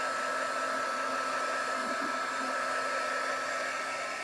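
A hair dryer blows steadily and loudly, drying paint on a rustic wooden bird house, with a constant whooshing roar from start to finish and no speech.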